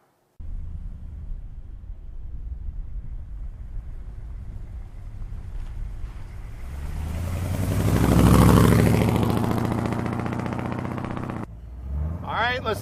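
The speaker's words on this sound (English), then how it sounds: "57 T-Bird with an awesome exhaust system on it." A 1957 Ford Thunderbird fitted with an aftermarket exhaust system rumbles steadily up close, swells into a louder rev near the middle, then settles back before cutting off abruptly.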